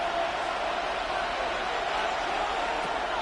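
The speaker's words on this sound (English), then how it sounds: "A big play here as the crowd noise rises." A packed football stadium crowd roars in a dense, steady wash of noise during a third-and-one play at a professional game, loud and unbroken throughout.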